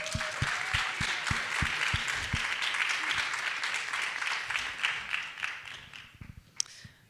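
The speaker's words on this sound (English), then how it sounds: "Could I get one more quick round of applause for our startups?" Audience applause for startup founders after an evening of pitches at a Georgetown entrepreneurship event, a steady crowd of clapping that holds throughout and thins near the end.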